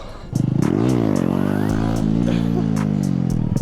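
A Honda Grom motorcycle on old, hard, cooked tires revs hard in a burnout, a loud steady engine drone with rising and falling pitch and a gritty clatter, held close and continuous after a brief quieter start.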